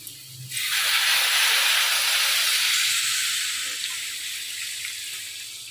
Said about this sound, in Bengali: দেখুন জল দিয়ে দিলাম, এরপর ফুটুক, জল দেওয়ার পর তারপর নামিয়ে নেব।